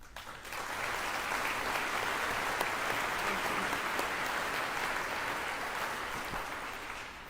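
An audience at a ribbon-cutting ceremony in Oxford applauds with steady, dense clapping that holds for several seconds before tapering slightly. The crowd sounds fairly distant and lively, with no talk on top.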